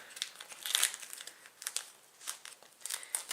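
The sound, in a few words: peeling a dried paint skin off with a palette knife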